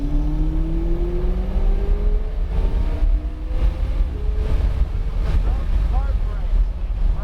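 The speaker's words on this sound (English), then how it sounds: "Go ahead and accelerate." A McLaren accelerates hard, its engine note climbing steadily in pitch through the gears, loud and close under heavy wind buffeting from the open air.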